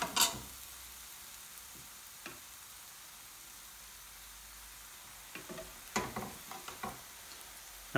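Coriander powder and Kashmiri red chili powder cooking in a pan, giving a faint steady sizzle broken by a few sharp scrapes and clicks of a utensil, quiet and close.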